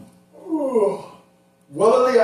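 A person imitates a yawn aloud, two drawn-out breathy yawning sounds close to the microphone, separated by a short pause.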